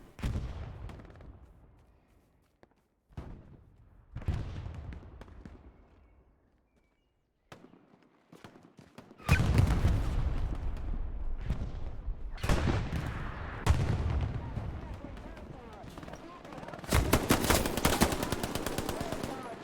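Machine gun fire in a competitive first-person war game match, starting with sparse shots and building into loud sustained bursts mixed with explosions, with a commentator talking throughout.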